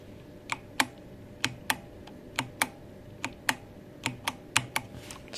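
Mechanical keys on a Machenike K600 Lite keyboard are pressed one at a time in an irregular, unhurried rhythm, each a crisp close click against a quiet background.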